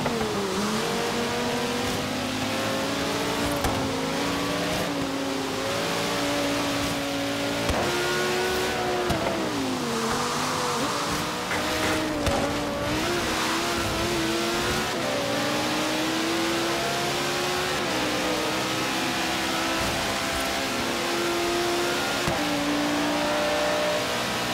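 Lamborghini Huracán engine roaring throughout a Forza Horizon 3 race, loud and continuous with rising and falling revs, gear-shift dips and steady acceleration, no talk over it.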